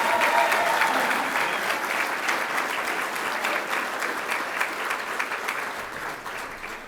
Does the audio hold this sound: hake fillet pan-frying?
no